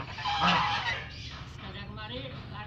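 Geese in a rice field give a loud nearby honk, followed by fainter calls, with people talking throughout.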